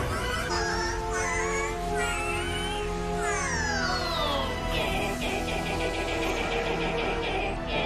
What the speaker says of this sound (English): Reminder that Regigigas sounds like this in the anime.